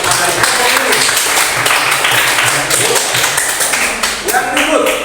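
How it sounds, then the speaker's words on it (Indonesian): Students in a classroom clap together during a lesson, a brisk patter of hand claps and taps mixed with voices speaking over and around it. "mari kita beri tepuk tangan yang meriah"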